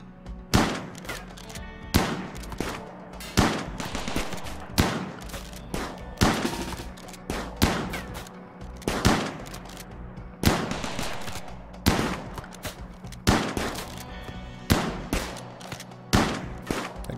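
Gunfire in the video game RimWorld: repeated sharp shots and short bursts at fairly regular intervals, each with a quick decaying tail, loud and clear with no talking.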